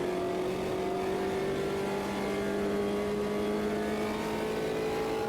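A race car engine in the sim game Automobilista 2 holds a steady, loud, even drone with a slowly rising pitch, running on its own with no talk over it.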